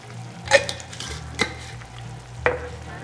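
A spoon stirs marinara sauce with dried oregano and basil in a pot, giving three sharp scraping clinks against the metal over a low simmer.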